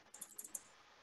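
Keys tapped on a laptop computer keyboard: a quick burst of four or five light, close clicks in the first half, then quiet.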